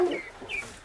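A couple of short, close clucks from a rooster, quick and slightly raspy, with a brief pause between them.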